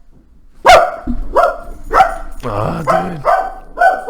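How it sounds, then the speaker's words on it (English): Tommy, a pet dog, lets out several sharp barks in quick succession close by, with someone talking over and between them indoors. "This is Tommy. He's a lovely dog."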